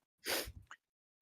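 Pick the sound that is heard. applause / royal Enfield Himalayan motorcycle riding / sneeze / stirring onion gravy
sneeze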